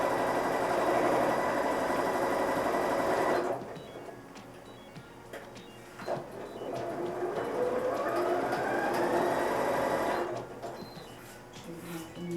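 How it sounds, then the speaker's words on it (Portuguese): Domestic sewing machine running a patchwork seam with a half-centimetre allowance, a steady continuous motor whir for several seconds, then stopping into quieter handling noise before a shorter second burst of stitching. "Vou passar uma costura com uma margem de meio centímetro."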